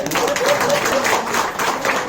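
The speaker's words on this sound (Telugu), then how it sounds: "ఒకసారి క్లాప్స్" A crowd at a terrace-gardening group meet claps together, a steady dense patter of hands throughout, with voices talking over the applause.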